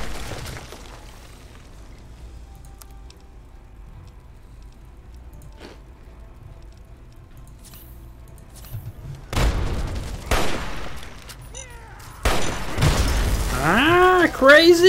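Missile launcher fire and explosions in Fallout 3: after a long quiet stretch, loud booming blasts and crackling bursts erupt in quick succession, with a voice near the end.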